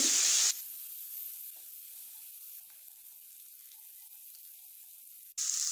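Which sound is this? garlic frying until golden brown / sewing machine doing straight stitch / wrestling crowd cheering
garlic frying until golden brown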